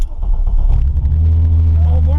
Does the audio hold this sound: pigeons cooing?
no